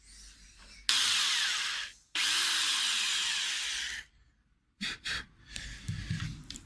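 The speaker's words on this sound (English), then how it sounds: "Let's drill that hole." A power drill whirs twice in close, sustained bursts, each a few seconds long, drilling a pilot hole in a guitar neck joint, followed by some light clattering and handling noises.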